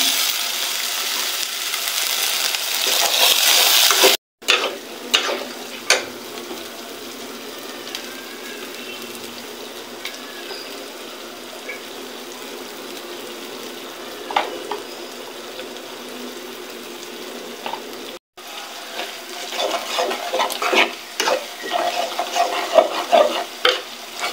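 Chicken with ginger-garlic paste, chili and salt is stirred and sautéed in a pan. A steady sizzle runs underneath repeated scraping strokes of the spoon, with two brief cuts and a busier burst of stirring near the end.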